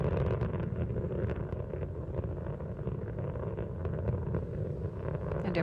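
Space Shuttle Endeavour's engines roar during launch ascent on mission STS-89, a dense, continuous low rumble with crackling texture, loud and unbroken throughout.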